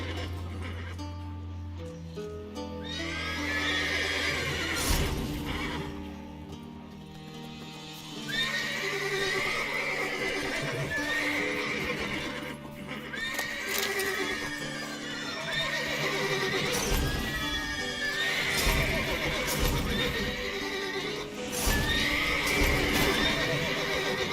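Agitated horses in a stable in the video game The Witcher 3 neigh and whinny loudly and repeatedly, with shuffling hoof clip-clops beneath the calls, filling the whole stretch without speech.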